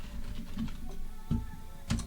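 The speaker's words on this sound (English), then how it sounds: "so millennials key smash like this, and I'm on my keyboard" Fast, irregular key smashing on a computer keyboard, a close clatter of many keystrokes with a couple of louder bursts near the middle and end, no voices.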